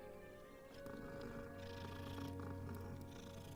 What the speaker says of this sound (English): What a pretty kitty